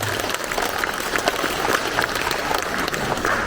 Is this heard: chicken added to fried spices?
no